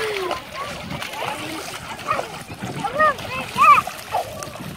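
Water splashes and sloshes amid excited children's voices and shouting during a water fight at Venice Beach, a lively jumble of splatters and chatter.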